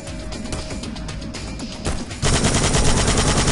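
Machine-gun fire in the stealth action game Hitman: Blood Money: continuous rapid automatic bursts, loud and close, intensifying into a denser, heavier volley partway through, with no talk.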